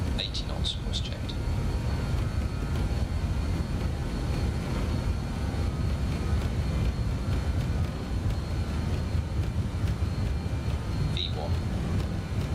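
In MSFS 2024, a BAe 146 airliner's jet engines roar steadily on the takeoff roll, a continuous broad rumble with a faint whine that stays even throughout, with voices murmuring underneath.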